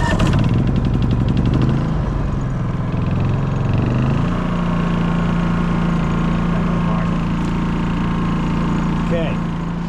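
A Predator portable generator is started, roars up and settles into a steady, loud running drone close by, with someone talking over it.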